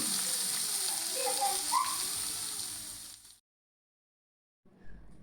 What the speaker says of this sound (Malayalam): ഇനി നമ്മളിതിലേക്ക് പാവയ്ക്ക കൂട്ടിച്ചേർത്തു നന്നായിട്ടൊന്ന് ഇളക്കി യോജിപ്പിക്കുക